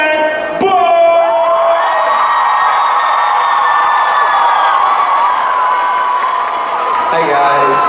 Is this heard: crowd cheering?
yes